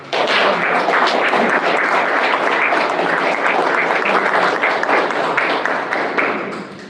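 Audience at a philosophy lecture welcoming a speaker with loud, dense applause, a continuous roar of clapping hands that holds strongly for several seconds before tapering off at the end.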